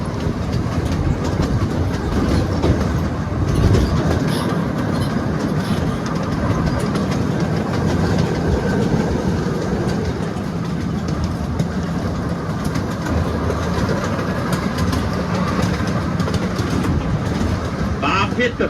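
A mini train rolls steadily along its rails, producing continuous loud clattering and rumbling close by, with engine hum beneath throughout.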